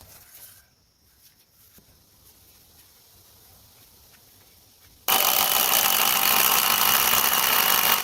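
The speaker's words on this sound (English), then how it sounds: "Using a drill machine, this lower layer of wood will give the house stability" A drill whirs loud and steady, fixing the lower layer of wood onto a base in a wilderness off-grid cabin build. Quiet outdoor ambience comes before the drill starts.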